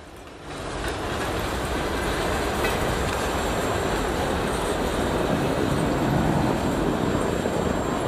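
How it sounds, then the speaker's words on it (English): A short Norfolk Southern freight train led by CP and ICE locomotives rumbles steadily past at close range near Allentown in winter, a continuous loud roar of engines and rolling cars with a faint high whine on top. "CP and ICE units lead 259 north out of Allentown with a short train."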